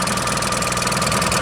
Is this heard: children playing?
no